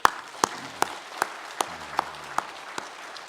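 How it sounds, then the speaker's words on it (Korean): A church congregation at a Sunday worship service claps together in a steady rhythm, about nine sharp, evenly spaced claps in unison over a low room murmur, moderately loud and clear. "우리 주님께 뜨거운 박수 한번 하겠습니다"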